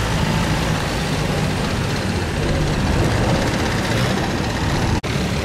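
A large barge engine runs below deck, a loud, steady, close drone with a heavy low rumble that holds constant throughout. It cuts off in a brief dropout near the end and then resumes.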